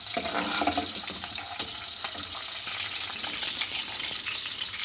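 Green chilies and cumin sizzle and crackle steadily in hot oil for mash daal, a faint, continuous frying hiss with small pops and no talking.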